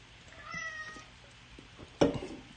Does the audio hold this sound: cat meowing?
yes